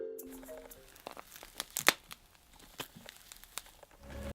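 Foley crinkling and crackling made to stand in for a monster's footsteps over a crusty exterior, with irregular crisp crunches and tearing bursts at close range, the loudest near the middle.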